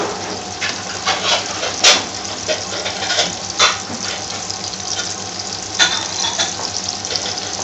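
Finely chopped garlic sizzles and crackles steadily in hot oil in a pan for a Bangladeshi aloo bhaji curry, with a few louder spattering bursts and stirring sounds and no talk.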